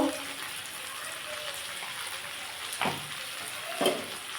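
Spinach sizzles steadily in hot oil with cumin, chili powder, turmeric and salt, a soft continuous hiss with two brief clattering stirs near the end.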